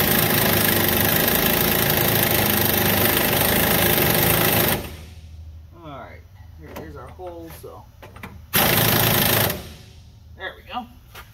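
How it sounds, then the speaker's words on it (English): Impact wrench tightening the drag link on a Peterbilt 379 truck, a loud sustained burst of several seconds followed by a second shorter burst, with someone talking in the quiet gap between them. "Now, grab that impact. Tighten her down."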